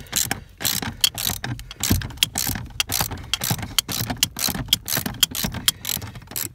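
A ratcheting wrench backs 10 mm nuts off a Firebird steering column: close, steady bursts of sharp metallic clicking repeat in a quick rhythm throughout, with no talking.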